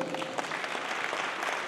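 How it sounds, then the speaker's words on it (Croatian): Audience applause at a folk music festival, a dense, steady clapping from a crowd that fills the whole moment without any talk. "posebno velikim pljeskom pozdraviti Marka i Mateju Nosić."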